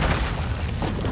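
A grenade blast in Call of Duty Modern Warfare II: a loud, dense, rumbling boom that fills the short moment with heavy low-end and lingering noisy debris, no voices over it.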